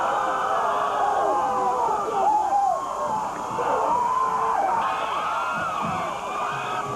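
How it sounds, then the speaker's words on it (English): Students cheering in the end zone of a high school football stadium on a Friday night, a distant sustained crowd roar with whistling and shouting, steady and loud over the open field. "Hear them down there in the end zone? They're cheering for you."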